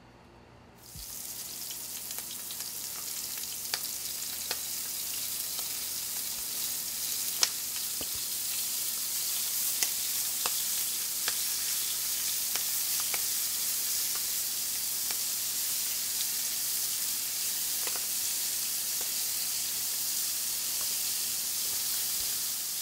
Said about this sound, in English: we're just going to lightly fry the shrimp in the bacon fat